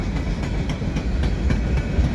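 A CN freight train rolls past up close, with the locomotive running as a distributed power unit near the front, giving a steady loud rumble and rhythmic clickety-clack of wheels over rail joints, with no voices.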